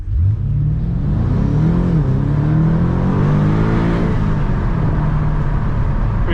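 A 2021 BMW M5 Competition LCI with a 625 hp engine pulls away from a standstill in first gear, a steady loud engine note rising smoothly in pitch as it accelerates, heard from inside the car.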